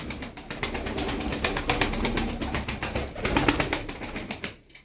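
Tumbler pigeons coo in a loft, soft repeated throaty calls close by, with a rustle of wings and shuffling beneath a steady background hiss.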